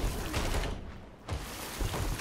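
Rapid, dense bursts of ship cannon fire from a naval battle game aboard a brigantine, a continuous booming barrage with a brief lull in the middle.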